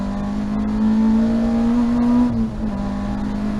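A race car at Rockingham accelerates out of a corner during a TARC Tricolore race, its engine note a steady loud drone that rises slightly in pitch, then dips briefly near the end, with no talk over it.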